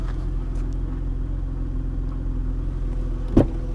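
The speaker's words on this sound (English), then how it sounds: "Yeah, the RPM just went up." BMW E32 735iL engine, suspected faulty throttle position switch, idling with a steady low rumble up close while the RPM creeps up, with one brief louder knock or bump near the end.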